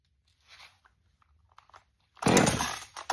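A small Veor chainsaw with a choke is pull-started: faint cord tugs and rattles, then the engine catches and snarls loudly for about a second before cutting out, close by.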